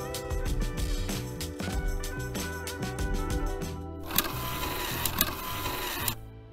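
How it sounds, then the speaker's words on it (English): The rear derailleur on an e-bike shifts to the high position with a run of rapid mechanical clicks and chain rattle, then a brighter metallic ticking burst near the end, close and alone. "Shift the rear derailleur to the high position."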